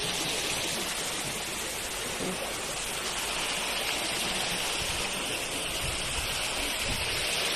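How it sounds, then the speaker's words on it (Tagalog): Water rushes steadily in Imelda's Garden, a dense broadband hiss like a fountain or small cascade, constant and fairly close, with no break across the whole stretch. "Lagas-las ng tubig."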